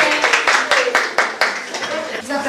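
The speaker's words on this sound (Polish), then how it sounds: "Czyli jeszcze raz brawa dla piątki" A crowd at a school water-day ceremony claps for school number 5, a loose burst of scattered hand claps with a voice talking over it.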